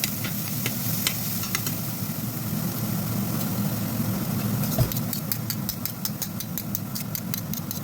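Garlic fries in oil until golden and crisp for a pork-crackling chili paste, giving a steady, even sizzle with a low hum under it and sharp clicks and scrapes from stirring, most of them near the end.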